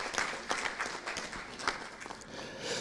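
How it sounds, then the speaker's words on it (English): Applause from the audience at an energy efficiency and electric mobility conference, moderately distant clapping from a room full of people, uneven with a few sharper individual claps, continuing throughout without speech. "Big round of applause."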